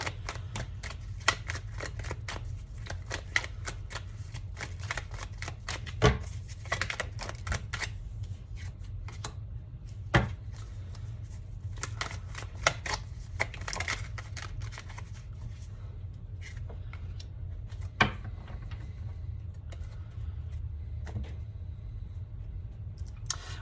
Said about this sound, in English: I'm just going to try to pull 2 or 3 more cards for you guys